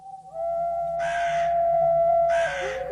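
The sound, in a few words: repeated calls of the wakwak bird, crow-like cawing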